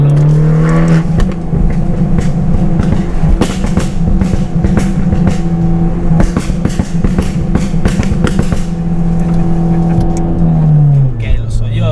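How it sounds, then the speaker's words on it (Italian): A Fiat 500 Abarth 1400 with a loud aftermarket exhaust revs hard, its engine rising and falling in repeated bursts with crackling pops, very loud and close for about twelve seconds. "ho uno scarico che fa tutto sto bordello"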